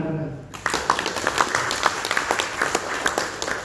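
An audience at a motivational corporate seminar breaks into applause after a short lull, with dense clapping and sharp individual claps continuing under talking voices.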